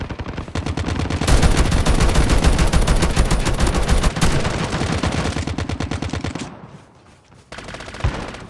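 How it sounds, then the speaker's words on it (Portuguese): Rapid, sustained bursts of automatic gunfire in a Call of Duty video game rattle loudly for several seconds, then drop away briefly before a final shot. "Ó, o tiro lá embaixo."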